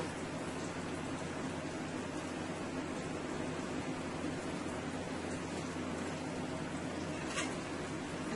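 Tuna fish cakes with vegetables frying in a 14-inch frying pan give off a steady, even sizzle that holds without pause, with a faint low hum underneath.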